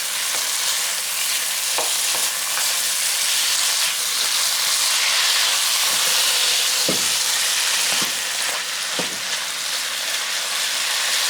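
Broccoli, mushrooms and hamburger frying in a hot pan, a loud continuous hiss and sizzle with a few scattered stirring knocks throughout, no voices.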